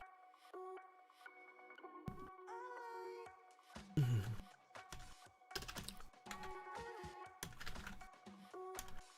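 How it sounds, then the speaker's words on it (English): Computer keyboard being typed on at a desk during a 3D-printing design session, a run of quick, close key clicks in irregular bursts over a steady background tone. "I will just go ahead and type those up right quick"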